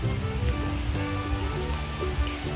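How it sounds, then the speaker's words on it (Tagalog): Steady rain falls over a vegetable garden with bottle gourd vines, a close, continuous patter without talk. "Naulan na."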